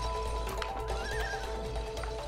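A horse in a video game neighs once, a wavering whinny over a constant droning background, with light hoof clopping underneath and no voices.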